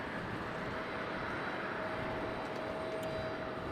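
A JetBlue Airbus A220-300 airliner landing at Raleigh-Durham airport, a steady distant engine roar and rush of air with a faint whine, fairly quiet and unbroken.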